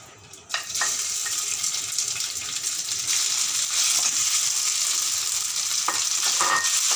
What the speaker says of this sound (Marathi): तूप जरा गरम झालं की त्याच्यावर हा आळू जो आहे आपला तो छान मी परतून घेते